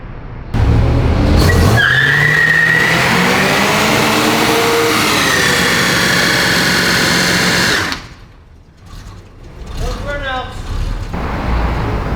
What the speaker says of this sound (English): we're going to go ahead and just end it with a burnout.